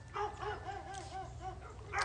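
Several dogs bark and yip in quick, rhythmic bursts, fairly faint and somewhat distant, with a brief whimpering edge and no talk over them.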